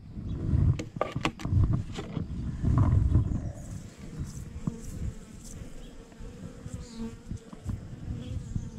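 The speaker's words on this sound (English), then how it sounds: "brushing off a few bees." Many honey bees buzz in a dense, continuous hum close by, with scraping and knocking from hive frames being handled during a honey harvest.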